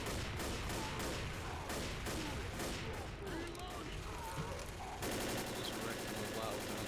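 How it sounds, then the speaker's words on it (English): Rapid gunfire in Left 4 Dead, a hunting rifle fired at a Tank, sounds as loud repeated sharp shots over chaotic game noise, dense and continuous with bursts and echoing blasts throughout. "Just wrecked him a lot with the hunting rifle."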